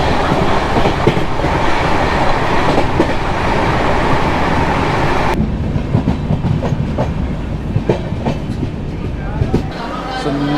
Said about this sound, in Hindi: फिलहाल अभी अपनी ट्रेन तो रफ्तार में दौड़ रही है एकदम।